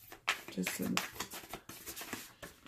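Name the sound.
shuffling a deck of oracle cards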